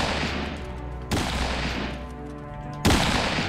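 Sniper gunfire in GTA Online, with several sharp reports spaced about a second or two apart over a steady background of in-game ambience and music, no talking.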